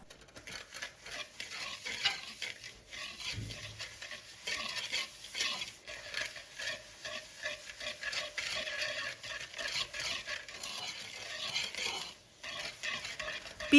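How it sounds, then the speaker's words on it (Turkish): Eggs and sugar are whisked in a bowl with a continuous, rapid, even scraping rhythm that carries on for several seconds, near and moderately loud, with no one speaking. "Yumurta ve toz şekeri güzelce yavaş yavaş çırpalım."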